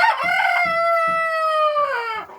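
A young Tiger-breed chicken gives a single loud, drawn-out crow close by, the clear tone sustained and then falling away at the end, with a few faint clucks underneath.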